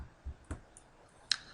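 Soft, quiet computer mouse clicks during a session in Inventor CAD software: a few separate clicks spread out, the last one sharper and louder.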